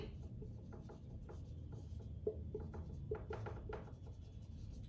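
Pen or marker writing by hand on paper or a board during a maths lesson, a soft run of short scratchy strokes with brief pauses, faint and steady with no talk.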